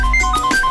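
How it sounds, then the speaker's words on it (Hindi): A brief, loud snatch of a mobile phone ringtone signalling an incoming call, a melodic electronic tone cut short, with no talk over it. "लीजिए, खुद पापा का फोन आ गया है"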